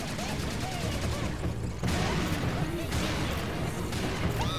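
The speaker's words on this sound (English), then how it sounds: "Gotta keep moving, because people are shooting at me." Dense, continuous gunfire and crashing blasts from the first-person shooter Serious Sam II, with overlapping shots and impacts throughout a chaotic battle, heard along with battle music and a voice talking over it.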